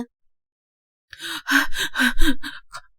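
Heavy, breathless gasps and pants from someone out of breath after running, a rapid run of voiced huffs close to the ear following a moment of silence.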